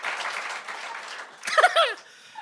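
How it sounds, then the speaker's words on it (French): A studio audience at a comedy stand-up show applauds in a hissy wash of clapping, followed near the end by a short vocal exclamation over it. "Applaudis."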